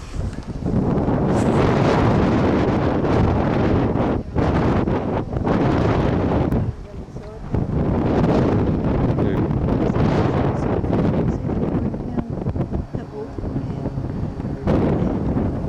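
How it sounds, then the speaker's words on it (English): Strong wind buffets the microphone in loud rumbling gusts on a cold day in outback New South Wales near Broken Hill, easing briefly now and then before roaring back. "The wind's blowing."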